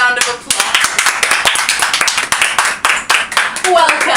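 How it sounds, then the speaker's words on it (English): Close, dense clapping from a small studio audience welcoming guests to a word-game talk show, a steady run of sharp hand claps over about four seconds with speech mixed in. "So let's give them a big round of applause."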